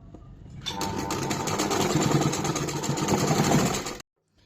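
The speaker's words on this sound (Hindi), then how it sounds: "ये पट्टी हमने स्टिच कर ली है गले पे।" A sewing machine stitches a binding strip onto a jumpsuit neckline, a close, steady rapid whirr running for about three seconds before stopping abruptly.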